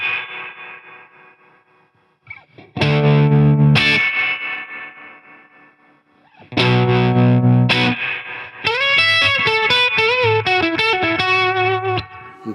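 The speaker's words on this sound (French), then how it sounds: "J'adore le trémolo appliqué à la reverb." Electric guitar run through tremolo applied to reverb with distortion, playing loud pulsing chords that swell and fade with washy tails, then a rapid wavering melodic phrase, with no talk.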